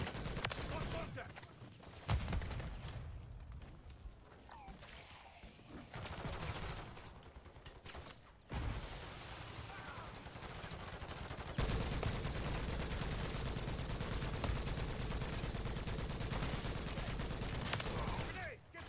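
Rapid bursts of gunfire rattle through a video game firefight, with dense automatic fire and scattered shots stretching the whole stretch, shifting in intensity, while voices call out in between.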